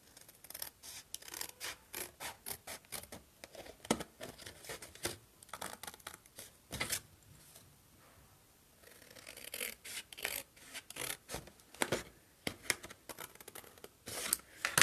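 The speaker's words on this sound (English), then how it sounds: "I'm just going to use my scissors" Scissors snip through paper in quick bursts of crisp cuts, with a short pause midway before the snipping resumes, close and fairly quiet.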